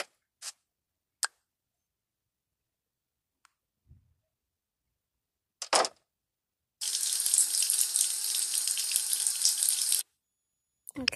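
Water runs from a tap during washing in the Avatar World video game, a steady bright gush lasting a few seconds after a handful of short, sharp game clicks and taps.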